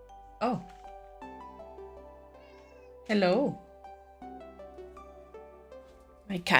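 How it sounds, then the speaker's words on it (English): A pet cat meows three times, each call rising and falling, close by and fairly loud, with soft background music or tones between the calls and no talking. "My cat is here."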